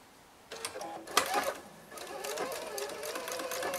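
A sewing machine fitted with a quarter-inch foot stitches a child's fabric face mask, running in short close bursts of rapid mechanical whirring with brief pauses between them.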